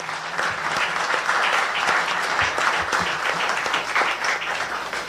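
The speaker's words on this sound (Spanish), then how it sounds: "Pido por favor nuevamente las palmas para el autor de este interesante libro." An audience applauds the author at a book presentation held by the Colegio de Ingenieros del Perú, with steady, dense clapping that lasts throughout and is fairly loud and close.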